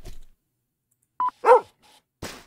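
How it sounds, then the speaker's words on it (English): Dog barking in the video game Pet Shop Simulator, a few short, separate barks and yips against near silence. "Why are you still barking, boy?"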